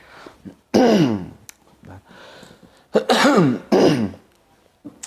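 Several harsh coughs and throat clearings, close and loud, coming in short bursts separated by quiet pauses.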